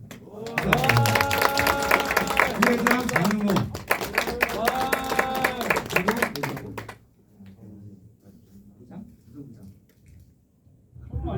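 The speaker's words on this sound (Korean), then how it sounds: "소개할 때 박수 좀 쳐주세요" An audience claps loudly for introduced student officers at a youth church service, two bursts of dense applause each a few seconds long, with a man announcing names between and after them.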